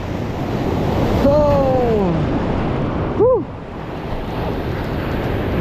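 Strong ocean waves crash at the shore of a fishing spot, producing a loud, continuous, wind-blown roar of surf throughout, with a couple of brief high chirps over it.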